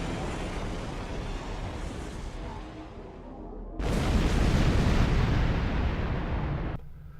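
Torpedoes strike a starship in the space game Star Trek Online, a loud, continuous roaring blast that eases, then surges again with a second heavier explosion before cutting off abruptly.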